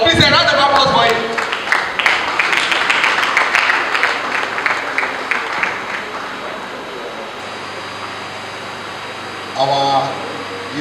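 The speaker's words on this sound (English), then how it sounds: "Please a round of applause for him." Audience clapping at an alumni convention, a burst of claps that thins out over several seconds beneath a voice speaking, with a steady hum of room ventilation behind.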